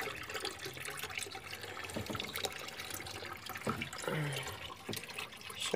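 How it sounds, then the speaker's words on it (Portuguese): Scented household bleach is poured into a small 100 ml cup already partly filled, a close, steady trickling splash with a few small knocks and no talking. "E agora eu vou colocar a nossa água sanitária perfumada."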